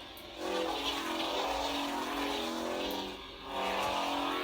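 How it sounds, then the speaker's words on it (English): A customized Darkwolf Proffie lightsaber running an unstable-swing sound font gives off a crackling, buzzing hum that swells and dips as the blade is swung, loud and continuous without talk. "I have it on unstable swing because it just sounds unstable when you swing it."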